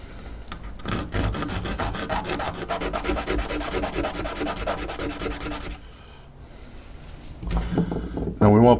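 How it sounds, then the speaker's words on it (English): Hand sanding across the ends of a wood-turned piece on the lathe, a steady rubbing rasp with brief pauses, close and fairly loud, with a voice talking over parts of it. "Let's sand the ends of these."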